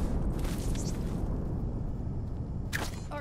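Grenade explosions in an online shooter video game, a loud sustained roaring blast with rumbling low end and crackling debris, followed by a later sharp burst near the end.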